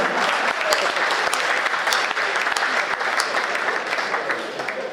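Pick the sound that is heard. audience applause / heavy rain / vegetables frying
audience applause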